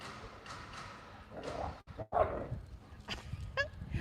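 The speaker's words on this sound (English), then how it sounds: "Let him bark at that cat." Several scattered barks from a dog at moderate distance, mixed with outdoor background noise and a few sharper honk-like yelps.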